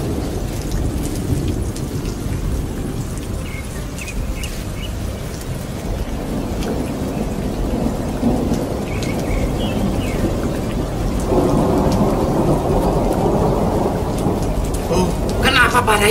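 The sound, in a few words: storm with rain and thunder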